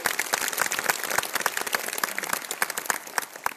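Seminar audience clapping in a dense, loud burst of applause, many hands overlapping close to the listener for a few seconds with no speech over it.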